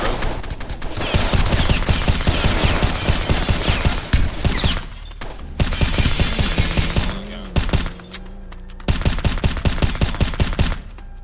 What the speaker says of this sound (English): Sound like somebody firing them rounds already